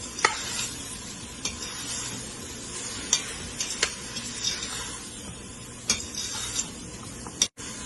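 Mushrooms sautéing in a pot for one-pot biryani sizzle steadily while a spoon stirs and taps against the pot in repeated clicks, close up with no talking.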